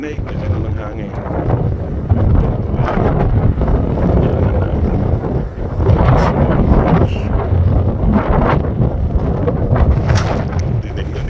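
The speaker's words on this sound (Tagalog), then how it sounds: "Tinig na gano'n ng hangin." Strong, cold wind in the Scottish Highlands buffets the microphone with a loud, steady roar that surges and eases throughout, with a faint voice underneath.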